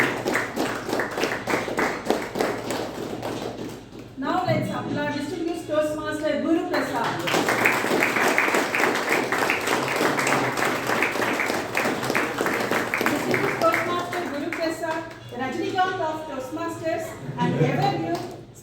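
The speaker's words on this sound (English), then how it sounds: "Now let's applaud distinguished Toastmaster" Dense audience applause fills a Toastmasters meeting hall for several seconds, a steady wash of many hands clapping, with a speaker's voice heard before and after it.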